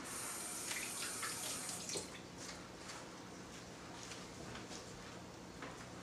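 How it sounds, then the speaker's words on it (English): Water from a running tap splashes steadily into a sink as hands are washed in a home kitchen, a continuous hiss with small shifts in the splash, faint and alone. "let me go wash my hands over here while the camera's looking at the food"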